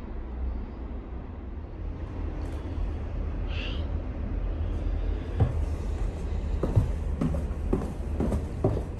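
A train passing near an old 190-year-old manor house in North Carolina, a low steady rumble with rhythmic clacks of the cars growing toward the end, heard from a moderate distance outdoors.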